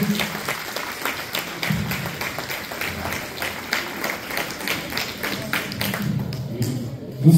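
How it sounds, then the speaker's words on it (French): Audience applause for an honored volunteer at a volunteers' celebration in Val-d'Or, a steady sustained clapping from a crowd that fills the whole stretch. "Applaudissons pour Georgette."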